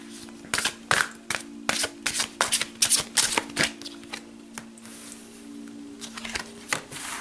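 Oracle of Protective Dragons cards shuffled by hand in a rapid run of crisp riffling slaps, close and clear, tapering into quieter scattered flicks toward the end.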